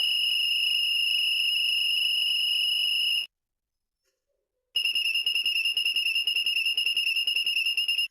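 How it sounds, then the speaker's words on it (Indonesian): A whistle blown in two long steady blasts separated by a short pause, shrill and piercing with a slight trill, close and loud. "bunyi peluit"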